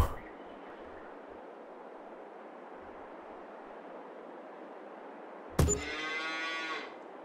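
Cattle in the colony-building game Banished give a single drawn-out moo late on, close and fairly loud, rising over a steady hiss of game ambience that runs throughout.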